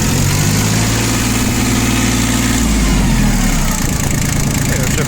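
A three-cylinder diesel engine on a Yanmar YM1720D compact tractor, with a mechanical injection pump, idles close up with a loud, steady, slightly harsh knocking rumble. A low tone shifts partway through, and a voice talks over it.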